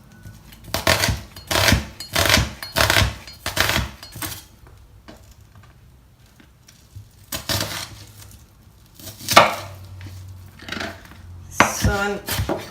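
A knife chops half an onion finely on a board for guacamole, sharp rapid knocks in quick bursts separated by short pauses, close and clear.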